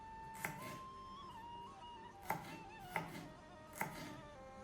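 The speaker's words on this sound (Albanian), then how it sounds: "dhe hudhrat i caktojmë në copsa të vogla." Garlic chopped into small pieces with a knife on a board, four separate sharp knocks spaced unevenly over a faint steady tone, close and distinct, no talking.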